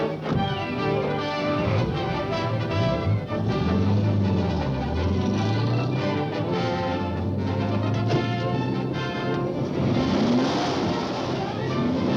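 Car driving in a 1939 movie serial chase scene, a loud continuous engine roar rising and falling in pitch, heard beneath a dense orchestral music score.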